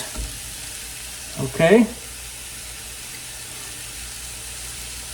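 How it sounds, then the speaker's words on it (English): Mushrooms and shallots fry in a pan with a steady, soft sizzle running underneath, while someone says a single brief word near the start. "And then we're going to put in the mushrooms and the shallots."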